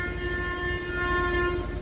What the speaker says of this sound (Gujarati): આપણે 3 વાગ્યાની ટ્રેન આવી ગઈ છે